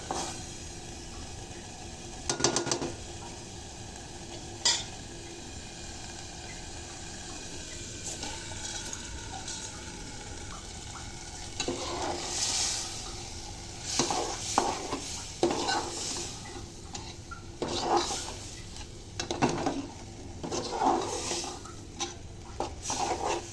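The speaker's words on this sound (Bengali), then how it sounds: "এ পর্যায়ে আমি মুসুরির ডালের সাথে পোলাও চাল অ্যাড করে দেব।" Polao rice being added to simmering masoor dal and stirred with a spoon in a pot, steady scraping and clinking strokes that grow busier toward the end, close and moderately loud with soft bubbling beneath.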